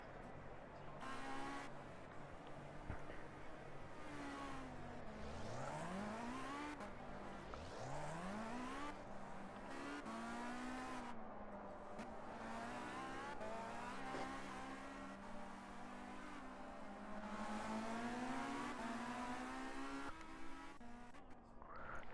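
Formula C single-seaters at Cadwell Park pull out of the pits onto the circuit, several engines rising in pitch through the gears in overlapping sweeps, steady and moderately loud throughout.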